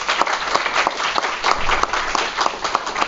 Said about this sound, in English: So I'd like to take a moment to just do a round of applause for Rima and her team for all they did